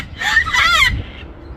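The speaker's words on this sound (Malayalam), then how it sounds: "ഇവിടെ എല്ലാം ഉണ്ടല്ലോ, എല്ലായിടത്തും തത്തകളാ." A flock of Australian parrots gives a burst of loud, shrill, overlapping squawks and screeches lasting about a second, close by, then quickly fades to quiet background.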